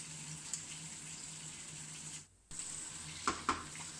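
Onions frying in a pan on high heat for nasi goreng, a soft continuous sizzle that drops out briefly, resumes, and is joined by a couple of faint clinks of a stirring utensil near the end.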